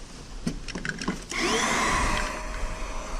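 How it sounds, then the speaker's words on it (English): A vacuum cleaner hooked to a 2007 Toyota's light fixture starts with a few clicks and knocks, then runs as a steady, fairly loud whirring drone up close. "we'll hook up our vacuum."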